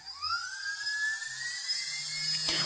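Small brushless motor on a ReadyToSky 40A OPTO ESC spinning up fast, a high whining tone climbing steadily in pitch and holding at speed, close and clear with no talking.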